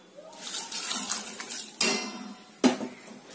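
Water poured into a metal cooking pot holding sugar while making jackfruit halwa: a close, steady splashing rush, followed by two sharp clanks of the vessel.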